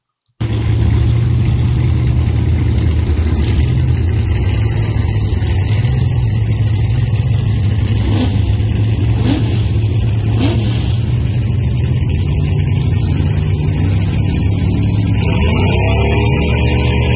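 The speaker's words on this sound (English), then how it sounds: "I don't know, a race car" A race car engine runs steadily with a loud, sustained low rumble across the whole stretch, shifting slightly in pitch as it revs, with no talk over it.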